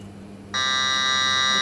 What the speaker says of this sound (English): the top one is obviously the volume of the buzzer